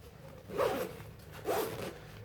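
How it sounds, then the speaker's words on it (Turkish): Two quick zipper pulls, each about half a second, on a hiking backpack as its detachable compartment is zipped onto the main bag, close and moderately loud over a quiet room. "şuradaki fermuar aracılığıyla çantayla bir bütün halinde tek parça haline de getirebiliyoruz bu bölmeyi"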